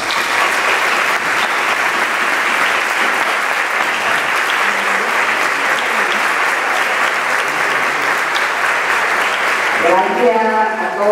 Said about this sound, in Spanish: queremos dar un fuerte aplauso